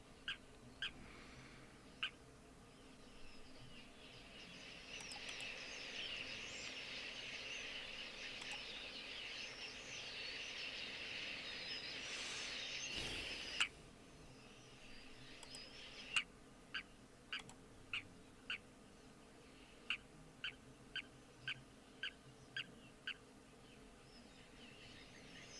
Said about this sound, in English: it sounds like the lapwings are chirping, so there's definitely something around